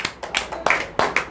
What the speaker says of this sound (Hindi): ताली बजा दीजिए आप लोग अपने आप के लिए।